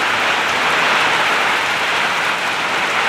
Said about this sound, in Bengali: এখন কী পরিমাণে বৃষ্টি হচ্ছে দেখছেন, যে এত পরিমাণ বৃষ্টি